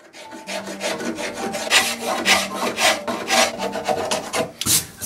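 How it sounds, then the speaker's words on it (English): Scraper rubbing and rasping old finish off mid-century modern wooden furniture, a steady run of close, repeated scraping strokes with no talking. "I'm going to have to scrape around that and then take it off and then do underneath"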